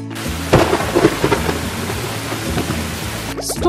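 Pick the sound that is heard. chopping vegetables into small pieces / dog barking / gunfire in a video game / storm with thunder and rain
storm with thunder and rain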